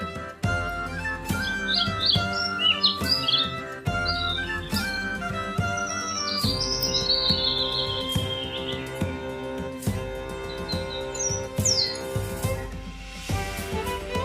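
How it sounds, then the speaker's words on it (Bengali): A dove calls from a tree in a string of high, quick chirps and tweets scattered over continuous background music. "ঘুঘু পাখি ডাকছে গাছে"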